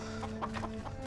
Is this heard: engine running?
no